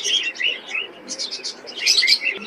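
Birds at a pigeon market in Khulna's Big Bazar, giving bursts of close, bright chirping calls that come and go in clusters, busiest toward the end.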